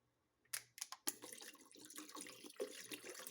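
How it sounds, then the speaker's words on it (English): Bottled water pours into a pot of browned beef stew, a splashing, gurgling stream starting after a brief pause and running steadily close by. "I'm going to add some more water to this"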